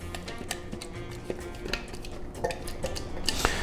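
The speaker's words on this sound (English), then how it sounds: "Use a spatula to get all the pieces off" A spatula scrapes fire-roasted cherry tomato salsa into a bowl, giving soft repeated scrapes and light clinks against the dish, fairly quiet and close.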